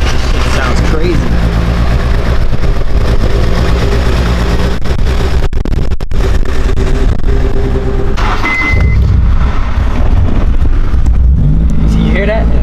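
A Honda S2000 with a Spoon wide-body kit runs its VTEC engine up close, with a loud, sustained mechanical drone that rises and falls in pitch. Voices come through faintly around it.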